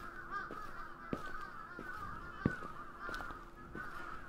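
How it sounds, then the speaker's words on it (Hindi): Crow calls in a video game set in Tokyo, honking caws repeating over a steady background hum, with a few sharp clicks; no talking. "कौवों की आवाज़ आ रही है यार"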